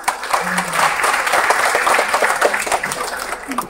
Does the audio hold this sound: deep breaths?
no